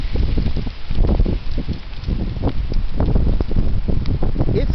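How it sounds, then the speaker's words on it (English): Heavy wind blowing outdoors, a loud, continuous roar with gusty swells and rustling buffeting the microphone throughout. "It's getting windy out here."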